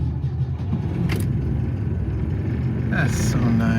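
A Saab 95 engine idles steadily on choke, a continuous low rumble running throughout with a brief faint higher whine near the end.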